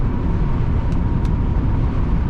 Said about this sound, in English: Just a little wind noise around the windows.